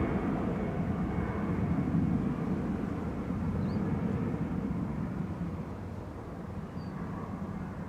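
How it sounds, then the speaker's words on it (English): An EasyJet Airbus A320 Classic departs Manchester Airport bound for Palma de Mallorca, its jet engines a steady broad roar heard from a distance, slowly fading slightly toward the end. "EasyJet 7270 to Palma de Mallorca. That's OEIVU departing A320 Classic."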